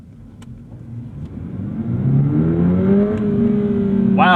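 A 2025 Subaru BRZ tS engine accelerating in sport mode, heard from inside the car, a rising mid-pitched growl that climbs steadily through the gears and stays loud and close, without talk.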